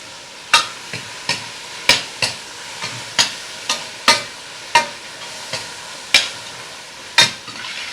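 Canned diced tomatoes sizzle in a hot pan while a utensil stirs them, giving a dozen or so sharp scraping clacks at uneven intervals over a steady soft frying hiss, close and clear with no talk.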